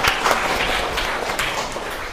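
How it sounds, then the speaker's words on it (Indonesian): A class gives applause in a lesson room, a loud, steady patter of many hands clapping together, close and continuous with some voices mixed in. "Beri tepuk tangan"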